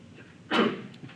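A single sharp sneeze in a classroom, one brief loud burst against a quiet room.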